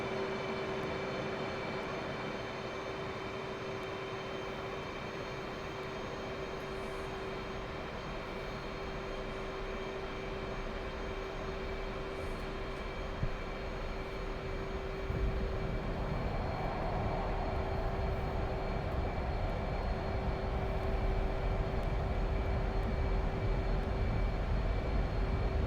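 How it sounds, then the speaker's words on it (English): F-15E Strike Eagle twin jet engines revving up in the DCS flight simulator on the Caucasus map: a steady, dense roar with a constant whine that swells louder and deeper partway through. "Get the engines revved up."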